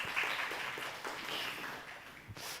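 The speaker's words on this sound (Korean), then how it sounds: "이 박수가 영 힘이 없습니다" A church congregation gives faint, thin applause for the praise team, a soft, low-energy patter of clapping that carries on for a couple of seconds.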